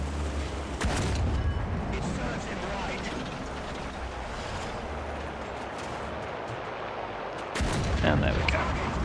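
Heavy tank cannon fire in War Thunder, two loud booming shots with long rumbling tails over constant engine and battle noise, from a Charioteer Mk VII match against an Ostwind.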